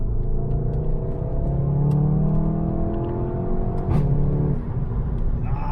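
A VW Golf 7.5 R engine drones steadily with rising and falling revs through an Akrapovic titanium exhaust, a throaty note with a sharp crackle near the end, heard continuously without talk.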